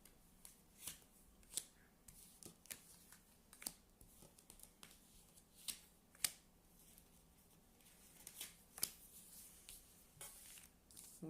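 A deck of cards being cut and shuffled in a quiet room, giving a series of sharp papery riffles and snaps at irregular intervals, fairly faint and close, with no talking.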